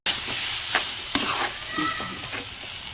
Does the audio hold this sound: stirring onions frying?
yes